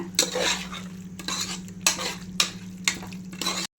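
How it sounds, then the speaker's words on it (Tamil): A spoon stirs chicken into an onion and tomato masala for biryani in a pressure cooker, giving several scraping, clinking strokes against the pot over a faint sizzle, close and without speech. "நான் போட்டு நல்லா அந்த வெங்காயம் தக்காளி மசாலாவில் நல்லா கிளறி விடுங்க"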